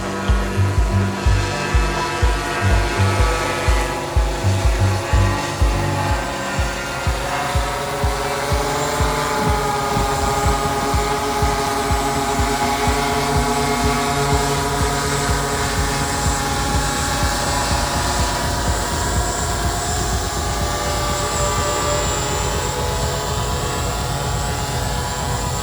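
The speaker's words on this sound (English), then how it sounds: "Drone is disarmed and safe." A university team's competition drone descends to land with a loud, continuous rotor buzz full of steady tonal whine, pulsing slightly at first and then holding even, close by throughout.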